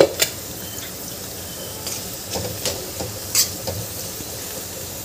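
Potatoes being stirred in a pan while they cook for sabudana khichdi, a soft continuous sizzle with occasional scraping strokes of the spoon against the pan at irregular intervals, close and fairly quiet.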